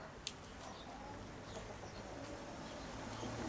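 Pigeons coo outdoors at a Koropets pigeon loft, low and steady under a constant rush of light wind, with one brief sharp click near the start.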